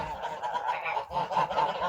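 A young domestic goose honks repeatedly in close, nasal calls that run almost without pause, loud and clear with no talking over them.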